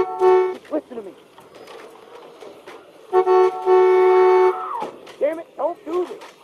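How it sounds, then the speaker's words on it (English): Car horn in The Walking Dead Season 2 video game, honking in two long sustained blasts with shorter toots between, loud and near, with voices talking around it. "If we lean him on the horn, it'll keep honking and draw the walkers."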